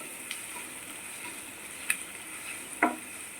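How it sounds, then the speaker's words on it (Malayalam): Chicken pieces sizzling quietly in hot oil in a pan while being stirred, with a low steady frying hiss and a couple of brief scraping clicks from the spoon. "നമ്മളിങ്ങനെ ആ എണ്ണയിലിട്ട് ഇളക്കിക്കൊണ്ടിരിക്കണേ"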